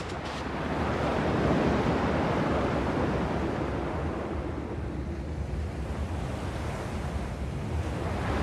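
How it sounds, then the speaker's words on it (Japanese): Ocean surf in the video game Kingdom Hearts II Final Mix rolls in a steady, washing roar with a gentle swell and wind-like hiss, continuous and fairly close, with no voices. "波の音だけは同じだな。"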